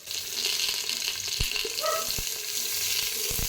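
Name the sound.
onions frying in a pan for chicken biryani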